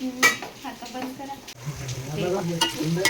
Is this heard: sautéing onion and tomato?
yes